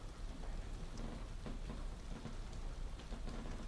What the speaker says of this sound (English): there's creaking floorboards and the sound of rain